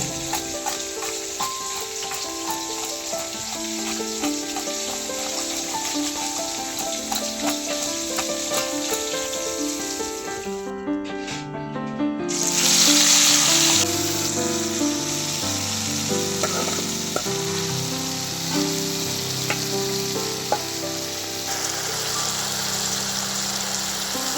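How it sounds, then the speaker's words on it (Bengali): Prawns cleaned and coated in turmeric and salt fry in hot oil, giving a steady, dense sizzle that holds throughout with occasional stirring clatter, no talking. "এখন তাড়াতাড়ি করে হলুদ লবণ মাখিয়ে ভেজে নিলেই হয়ে যাবে প্রায়"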